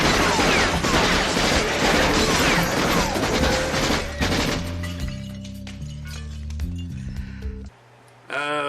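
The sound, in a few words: machine gun fire in film Maximum Overdrive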